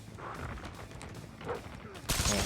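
A sniper rifle shot cracks out loud near the end of a Call of Duty: Mobile match, following quieter muffled game noise and faint scattered sounds.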